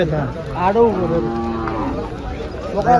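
Bullocks for farm and cart work at a Saturday farmers' cattle market in Chalisgaon, lowing loudly at close range with long moos amid crowd noise and someone talking.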